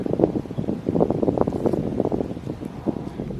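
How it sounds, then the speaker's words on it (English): Gusty wind buffeting outdoors in a sheltered spot of a wooded regional park, a steady low rumble with uneven puffs against the microphone and faint rustling, no talking. "It's pretty windy today, so tucked back in here out of the wind."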